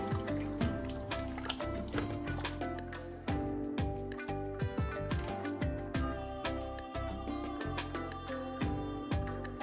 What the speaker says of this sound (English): Now I'm going to add in some water and let it cook until it's perfectly done.